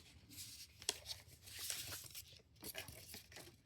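Tape being peeled off a Google Pixel 10a box, a close series of short tearing rips and crinkles in uneven bursts, quiet overall with no talking.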